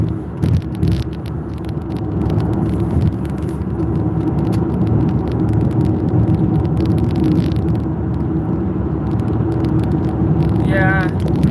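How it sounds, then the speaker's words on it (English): A Chevrolet Corvette passes on the road with a continuous broad engine and tyre roar, holding steady throughout, with voices partly over it. "Check out this Corvette that's passing."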